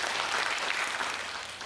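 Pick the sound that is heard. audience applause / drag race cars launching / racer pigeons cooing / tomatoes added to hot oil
audience applause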